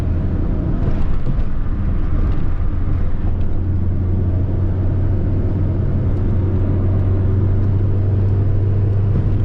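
A 1985 Saab 900S accelerating in fourth gear at part throttle, a loud, steady low engine drone and road rumble from inside the car, holding its pitch evenly throughout with no talking.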